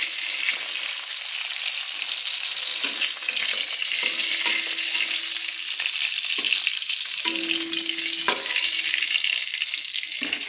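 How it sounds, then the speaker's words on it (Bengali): Bata fish frying in hot oil, sizzling steadily and loud throughout, with a few scraping knocks and short tonal clinks as a spatula lifts the pieces out one by one. "এবার বাটা মাছগুলো আমি তুলে নিচ্ছি, একটা একটা করে খুন্তি দিয়ে কিন্তু আমি তুলে নিচ্ছি।"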